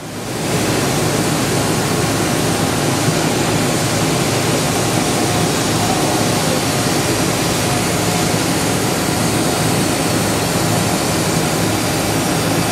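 A 2011 Makino V22 machining center runs its spindle through a warm-up cycle at 3,000 RPM, giving off a steady, loud broadband whir that holds unchanged throughout without any talking.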